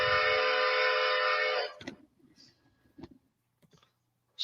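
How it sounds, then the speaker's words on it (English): A steady, high-pitched train whistle blares for about a second and a half, then cuts off, leaving faint clicks and rustles in a quiet space. "Here's how that whistle sounds like higher pitched."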